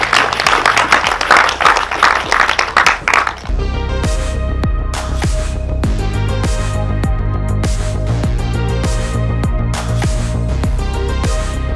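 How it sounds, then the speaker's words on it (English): Applause for the winning angler at a fishing match at Larford Lakes, a short burst of scattered outdoor clapping that gives way to music. "Give him a round of applause."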